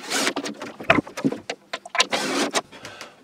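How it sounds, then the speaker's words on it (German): A power screwdriver driving screws into boards for a French cleat wall, short whirring bursts that start and stop in quick succession, close and fairly loud. "Und das schrauben wir jetzt einfach mal fest."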